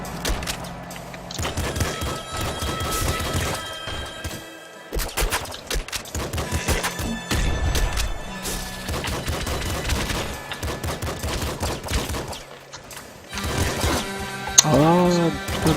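Video game gunfire in Nuclear Throne, dense bursts of rapid shots and explosive blasts that continue almost without pause, loud and busy throughout, with a player's voice talking in places.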